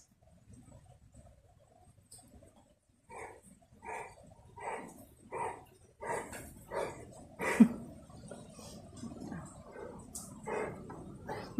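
A dog barks in a steady series of about ten evenly spaced barks, moderately faint and somewhat distant, with light outdoor background noise.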